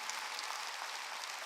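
A church congregation at a Sunday worship service breaks into brief, faint applause, a dense wash of clapping heard from a distance.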